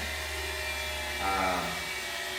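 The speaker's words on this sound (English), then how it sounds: "I got motor spinning now." A Tesla electric motor swapped into a 1973 Ford F100 spins with a steady, loud electric whine and hum that swells briefly in the middle, close by and without speech.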